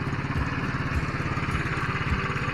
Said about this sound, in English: and start your scooter, right?